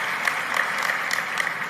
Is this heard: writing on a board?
no